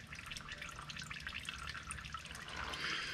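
Used engine oil from a Saab trickles and pours into an empty container, a soft, steady liquid splashing and dribbling close by, quiet and without talk.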